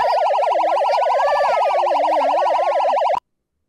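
A loud police siren wails in a fast, rapidly warbling pattern, close and continuous, then cuts off abruptly near the end, in a visual novel game.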